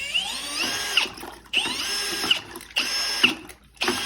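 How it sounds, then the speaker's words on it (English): A power drill whines up and runs in repeated bursts while cleaning ceiling texture, spinning down between each one, close and fairly loud. "Put the drill back on it and clean it off pretty good."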